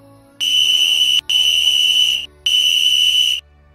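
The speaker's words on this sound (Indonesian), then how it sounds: "Nanti akan ada suara peluit kayak gini" A shrill whistle sounds three times: two long blasts separated by a short gap, then a third after a longer pause, loud and piercing against a quiet background.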